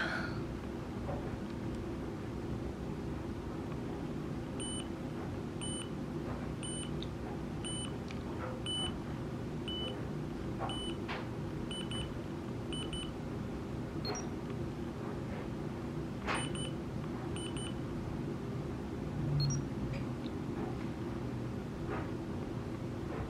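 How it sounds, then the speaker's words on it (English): Short high-pitched electronic beeps from a Polaroid Snap instant camera in photo booth mode repeat many times in small bursts over a low, steady background hum, with no talking. "It beeped like a lot of times"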